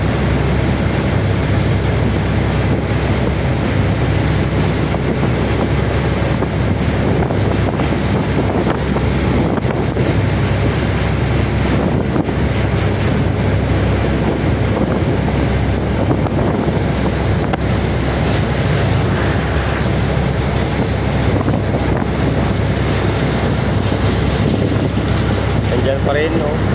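Boat pitching through heavy swell at sea off Tingloy, Batangas, with waves slapping the hull and steady wind roar buffeting the microphone throughout.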